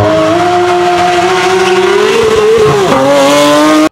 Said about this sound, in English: this is the first of its kind, a GT3 RS full IPE system